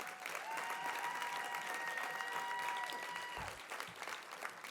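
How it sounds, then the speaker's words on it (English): Steady applause from a conference audience, sustained and fairly loud throughout, tapering slightly toward the end, with no voices over it. "Can we give them a big round of applause, please?"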